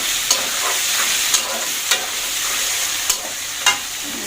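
Meat frying in a pan with a steady sizzle, broken by five or six scraping stirs spaced about half a second to a second apart, close and fairly loud with no talking.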